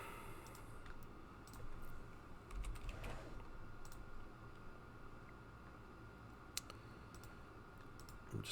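Someone types on a computer keyboard, producing soft irregular clicks and short bursts of keystrokes with brief gaps, faint against a low background hiss and with no talking.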